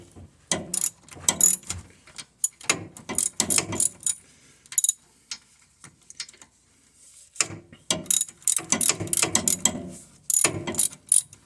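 Ratchet cranked on a car half shaft, rapid bursts of close, loud clicking in repeated strokes separated by short pauses.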